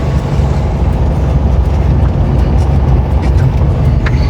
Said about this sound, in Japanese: キャブ車独特の音というか、ヒュルヒュルヒュルヒュルっていう排気音もね、個人的に大好きなんですよね。